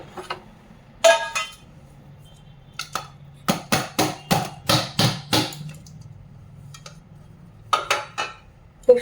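A knife scraping baking paper away from the sides of a cake tin: a run of about a dozen close, sharp metallic scrapes in a quick, even rhythm, with a few isolated clinks before and after and no talk.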